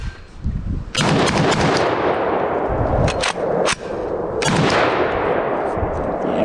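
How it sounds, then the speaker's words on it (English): Several loud, sharp rifle shots from an IWI Tavor SAR bullpup firing Russian Silver Bear ammunition, unevenly spaced in bursts of two or three, each with a ringing decay, heard close up outdoors. "Now let's try the Tavor with Russian Silver Bear."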